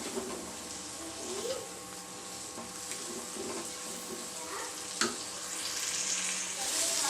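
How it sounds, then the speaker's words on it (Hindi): Masala with four to five spoons of yogurt frying in a pan for masala bhindi, a steady soft sizzle with occasional stirring scrapes, close and continuous, no talk. "एंड में हम इसमें शामिल करेंगे दही 4 से 5 चम्मच और इसे अच्छे से भून लेंगे।"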